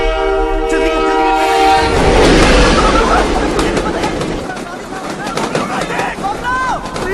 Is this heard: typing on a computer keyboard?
no